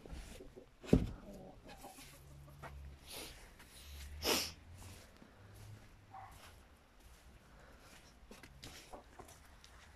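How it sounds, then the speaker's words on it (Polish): A rooster clucks and calls quietly in the distance, with a couple of short sharp noises and faint background sounds between the calls. "To chyba ten nowy kogut."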